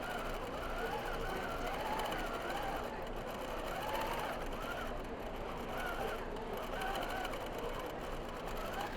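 A computerized quilting machine stitches on a quilt show floor, giving a fast, even mechanical whir with a rhythmic rising and falling pattern, heard quietly but continuously alone with no talk.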